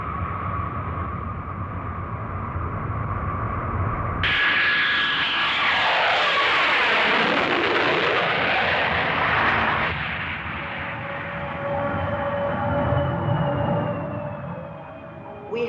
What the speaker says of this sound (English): We have now landed at Hong Kong.